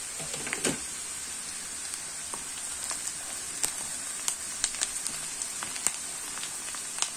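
Onions frying in a mix of vegetable oil and a spoonful of butter, giving a steady quiet sizzle with scattered sharp pops and crackles throughout, no voices.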